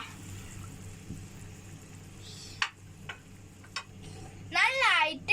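A spoon stirs tamarind water and jaggery simmering in a pan, a low bubbling hiss underneath a few sharp clicks of the utensil against the pan, ending with a short burst of voice.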